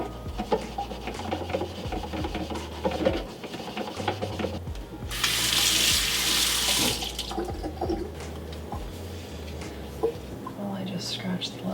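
Tap water running into a sink while a black Stanley water bottle is scrubbed and rinsed, with rubbing and clunking against the bottle, a louder gush of flowing water midway, and a person talking over it.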